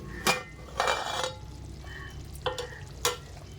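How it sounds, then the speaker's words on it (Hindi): Desi ghee heats in a pan for a tadka over mutton nahari, giving short crackling sizzles and spoon stirs in separate bursts, fairly close and moderately loud. "ज़रा से हमने 2 चम्मच घी लिए, इसको देसी घी का तड़का दे देंगे ऊपर से। तो घी को थोड़ा सा गर्म कर लेती हूँ मैं।"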